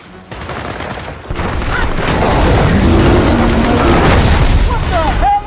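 Heavy battle gunfire and booming impacts in the video game Gears of War 4 build into a loud, continuous barrage after a quieter opening.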